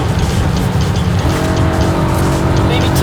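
A BMW M3 driven hard around the Nurburgring with hot brakes: a loud, continuous engine roar close by, with tire squeal mixed in and the strain holding steady throughout.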